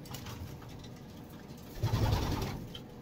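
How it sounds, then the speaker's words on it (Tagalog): Pigeon cooing at close range in a loft, a soft low burst of coos rising after a stretch of quieter background noise, with no voices. "Grabe naman itong ibon na ito."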